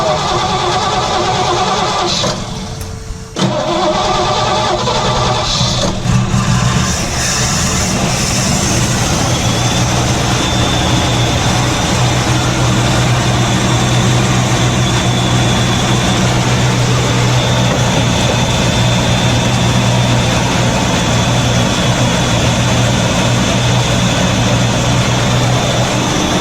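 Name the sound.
1966 Chevy C10 engine cranking and starting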